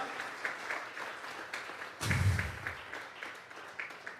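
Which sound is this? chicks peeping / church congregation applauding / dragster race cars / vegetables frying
church congregation applauding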